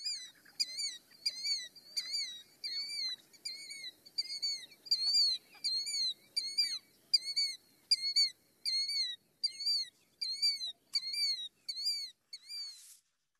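A bird in southwest Ohio repeats a loud, clear, whistled call in a steady series of about twenty evenly spaced notes, close and alone against silence.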